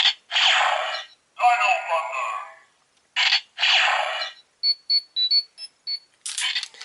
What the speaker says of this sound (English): the MMPR Mighty Morphin Power Ranger communicator beep is, Tommy Oliver